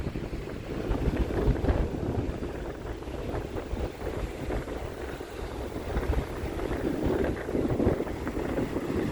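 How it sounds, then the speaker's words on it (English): Strong wind blows across the microphone on an open point outdoors, a loud, constant rumbling buffet with gusts rising and falling throughout, with no voices. "Beautiful day here, but windy"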